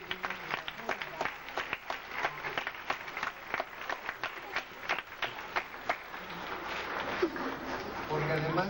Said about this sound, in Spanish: Yo quiero darle un aplauso especial